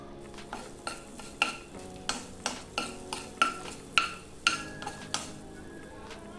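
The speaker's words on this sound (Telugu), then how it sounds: "1/2 టీ స్పూన్ మెంతులు, 1/2 టీ స్పూన్ జీలకర్ర, 1 టీ స్పూన్ ధనియాలు వేసుకొని వేపుకోవాలి" Fenugreek, cumin and coriander seeds fry in oil while being stirred, a quiet sizzle punctuated by a regular series of sharp metal spoon clinks against the pan.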